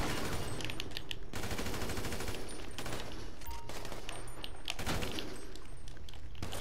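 AK rifle fire in a shooter video game comes in rapid automatic bursts, loud and close, over a busy game soundscape.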